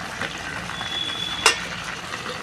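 Ground spice paste goes into a pan of nearly boiled potatoes and dal for a Bengali jackfruit curry and sizzles as a soft, steady frying hiss, with one brief clatter partway through.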